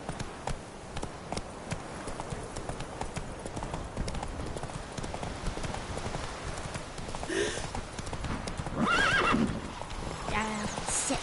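A horse in The Witcher video game trots with rhythmic hoof clip-clops under faint background music, then gives a couple of loud, shrill neighs near the end.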